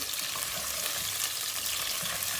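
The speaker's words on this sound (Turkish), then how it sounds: "Soğanları kavurma işlemine başladım. Soğanlarımız kavrulmaya başladı." Onions with halved garlic cloves sauté in a pan, a steady close hiss and crackle of frying with no voices over it.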